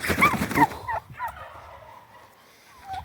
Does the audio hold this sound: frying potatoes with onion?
no